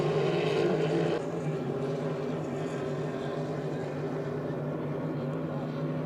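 Hydroplane racing boats in the Hydro350 final at St-Félicien roar around the course, a sustained droning engine whine heard at a distance beneath continuous race commentary.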